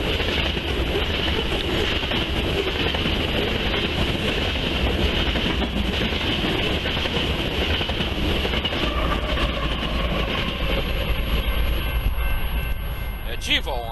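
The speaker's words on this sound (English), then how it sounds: "there's a westbounder BNSF mixed freight" A westbound BNSF mixed freight train rolls past on the Columbia River mainline, a loud continuous rumble and rattle of wagons with wheel clatter, with wind and some voices in the background.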